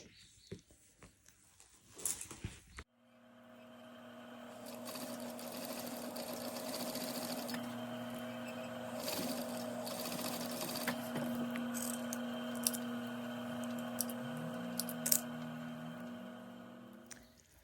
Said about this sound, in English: I'm going to take it over to my machine and sew that.